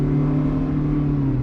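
A 1993 Toyota Corolla LE with an automatic transmission climbs a hill, its engine holding a steady, moderate hum with a low drone close by and no talk.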